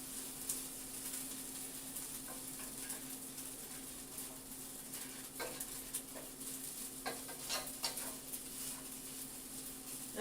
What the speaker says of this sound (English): I'm being really gentle with my rice. I'm just kind of flicking it around.